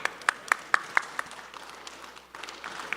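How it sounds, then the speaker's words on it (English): Clapping from the audience at a Bitcoin mining summit panel: a handful of sharp, evenly spaced claps in the opening second, then fading into a low hum of room noise. "Ladies and gentlemen, give a round of applause."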